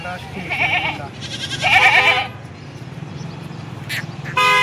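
Kathiawadi goats bleat a few times in short wavering calls, with a sharper cry near the end, over a steady low background hum.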